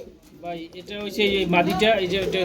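Soft, rhythmic pigeon cooing close by, with layered low warbling calls building in loudness partway through.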